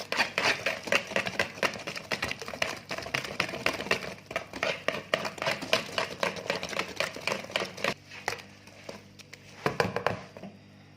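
Mashed bananas being whisked into banana cake batter in a bowl, a steady stream of rapid clicking, scraping strokes up close, easing off into a few scattered taps near the end.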